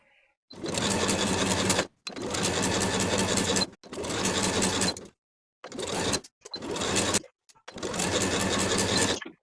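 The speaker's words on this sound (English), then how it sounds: "Sew that bottom raw edge with a 3/8 inch seam allowance straight across." A sewing machine runs in six bursts stitching a blouse yoke seam with a 3/8 inch allowance, each run a loud steady whir separated by short silent pauses.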